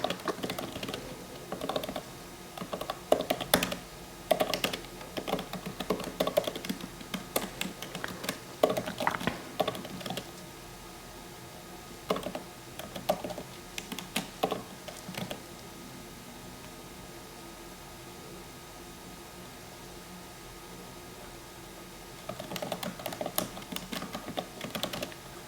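A prompt for ChatGPT is typed on a computer keyboard in quick, uneven bursts of soft clicking, separated by pauses, fairly quiet and close with no talking.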